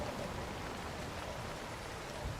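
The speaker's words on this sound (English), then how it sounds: "It's been on the rainy side." Steady rain falls on a mountain in a survival-climbing game, a dense, even hiss of drops with no pauses or voices.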